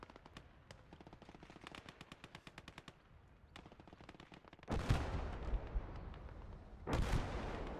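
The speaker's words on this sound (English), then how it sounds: "sounds like a Nebelwerfer variant as well" Rocket artillery fire in a WWII battle game, rapid rhythmic bursts of firing followed by two heavy booming blasts with rumbling tails, fairly distant and alone.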